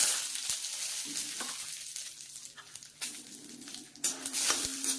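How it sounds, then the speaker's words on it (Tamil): Red chillies frying in sesame oil in a pan give a steady close sizzle and crackle, with light stirring scrapes and a few sharper pops throughout. "ஒரு கொஞ்சமாக நம்ம நல்லெண்ணெய் ஊற்றி வறுக்க போகிறோம்."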